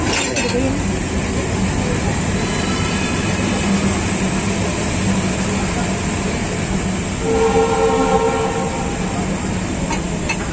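An Indian railway locomotive pulling on the coupler of an LHB coach during an anti-creep test, giving a continuous loud rumbling train and rail noise with a brief tonal whine toward the end.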